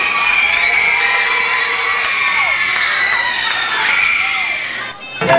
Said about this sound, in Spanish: Démosle un fuerte aplauso a los ganadores